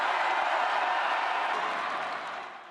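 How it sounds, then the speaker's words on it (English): A large convention crowd at the RNC booing Ted Cruz: a loud, dense, sustained roar of many voices that stays steady and then fades toward the end. "That's the crowd booing last night at the RNC as Ted Cruz refused to endorse Donald Trump"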